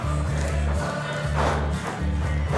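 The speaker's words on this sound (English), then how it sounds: "The crowd's already into it." Crowd at a nighttime West Coast Pro Wrestling show in Vegas, a dense continuous roar of cheering with rhythmic low thumps underneath, loud and close throughout.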